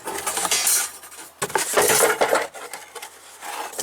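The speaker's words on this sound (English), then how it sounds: "Sprite can." A Sprite can clinks and rattles as it is handled inside an old 1973 AMC Gremlin, sharp metallic taps and scrapes coming in a few close bursts with short pauses between.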